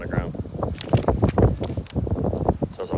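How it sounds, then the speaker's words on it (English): Strong wind gusts outdoors on a warm, very windy day buffet the microphone in a steady, roaring rush with uneven surges, while a voice is faintly audible underneath. "And it's very, very windy."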